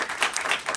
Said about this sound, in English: Just give her a round of applause also